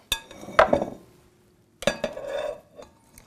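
A mixing bowl being taken out and handled in a home kitchen, two short bursts of clinking and knocking, close and fairly loud, with brief scraping in between and no talking.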